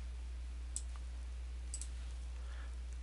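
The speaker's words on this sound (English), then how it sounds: "Click it again." A few faint, sharp mouse clicks, spaced apart, while painting in digital scrapbooking software, heard over a steady low hum with no talking.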